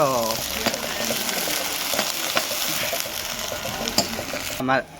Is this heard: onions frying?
yes